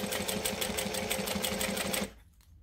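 A sewing machine stitches a fabric gusset in a rapid, even run of needle strokes for about two seconds, then stops abruptly, close by with no talking.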